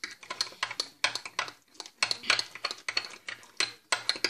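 Homemade slime made with borax being stirred in a container, giving rapid clicking, tapping scrapes in irregular clusters, close and fairly loud, with no talking.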